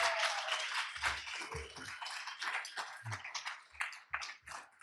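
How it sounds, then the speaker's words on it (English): A conference audience applauds the organizers in a moderately loud, steady burst of clapping with a few low thumps and taps mixed in. "Can we give a round of applause for Paul and Jeff for organizing the conference?"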